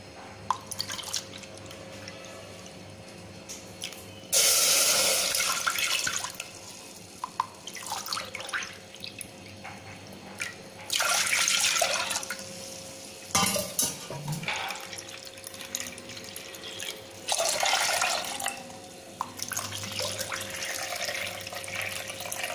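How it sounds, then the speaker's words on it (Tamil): Water is poured into a heated pressure cooker for sweet pongal in a home kitchen, coming in several bursts of splashing and trickling separated by brief pauses, close and fairly loud with no talking. "பொங்கல் பண்ணுறதுக்கு ஒரு குக்கரை சூடு பண்ணிவிட்டு ஃபஸ்ட்டு நம்ம தண்ணி சேர்த்துடலாம்"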